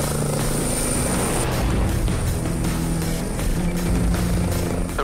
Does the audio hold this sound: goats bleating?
no